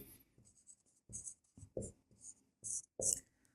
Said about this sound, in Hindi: अब हम यहाँ लिखते हैं हल